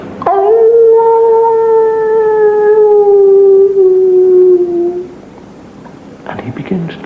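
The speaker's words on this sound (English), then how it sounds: "And in the distance, the howl" A single long howl of a werewolf rises at first and then slowly falls and tapers off over about five seconds. A few faint rustling sounds follow in the quiet after it.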